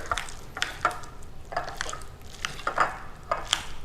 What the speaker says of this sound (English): we just want to mix everything together really well